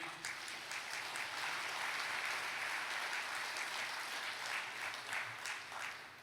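Sustained applause from a church congregation, dense steady clapping filling the whole stretch at an even, fairly loud level with no talk over it.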